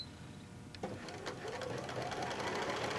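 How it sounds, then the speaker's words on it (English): A sewing machine runs a zigzag stitch along the edge of pillowcase fabric, its steady, fast mechanical whir close and continuous, briefly catching at the start and then holding an even rhythm. "A zigzag stitch, you just want to run it right along the edge."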